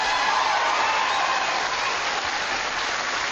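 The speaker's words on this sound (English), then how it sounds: "So give yourselves a round of applause for that." Sustained audience applause from a live studio crowd at a televised ghost-hunt broadcast, dense steady clapping that stays loud and even throughout without voices.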